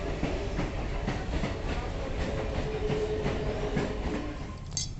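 A train passing at a railway station, a loud steady rumble with a rhythmic clickety-clack of wheels over rail joints and a faint squeal near the end.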